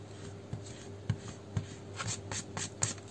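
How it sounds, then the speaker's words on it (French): Rubber eraser rubbing out pencil lines on paper, a quiet scratchy scrubbing in short repeated strokes at close range, with no voices. "Je vais gommer les traits aussi dessus."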